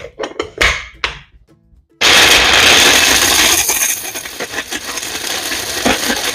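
An electric grinder grinding almonds into flour starts with a few sharp rattles and taps, then after a brief pause bursts into a loud, continuous whirring grind that gradually eases toward the end.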